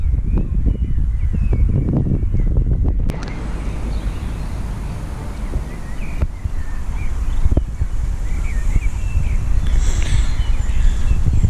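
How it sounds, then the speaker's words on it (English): Steady wind buffeting an outdoor microphone beside a lake, a low rumbling roar that persists throughout with faint birds in the background. "it's quite breezy, quite windy"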